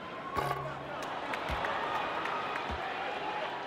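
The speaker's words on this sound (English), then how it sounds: "And now Rick Fox hearing some boos from the crowd." A Knicks vs Lakers arena crowd rumbles with low, sustained booing aimed at Rick Fox, a broad steady murmur with a few sharp thumps, while a commentator talks over it.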